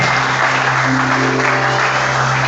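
A French-speaking church congregation breaks into sustained applause, a dense, even wash of many hands clapping that stays loud and steady throughout, with no voices standing out.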